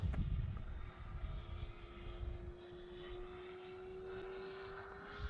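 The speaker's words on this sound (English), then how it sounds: "you gotta love the sound of 3-blade props" Seagull Models T-6A Texan II radio-controlled balsa plane with a three-blade propeller making a full-speed flyby, a steady droning engine note that slowly rises in pitch against wind noise.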